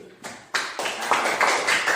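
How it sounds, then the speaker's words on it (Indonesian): Brief hand clapping from a classroom audience, starting in scattered bursts and building into a short, moderately loud round of applause. "Tepuk tangan dulu untuk dia Dewi."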